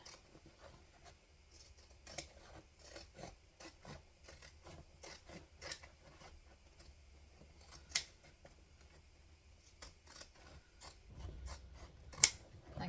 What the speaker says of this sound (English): zigzag scissors, and I'm going to cut off some of that seam allowance